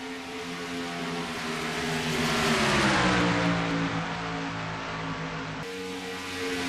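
Race cars in a sim racing video game, a stock car event at the Wurth 400, roar continuously with engine pitch rising and falling as a car revs through a corner, loud and close throughout with no talk.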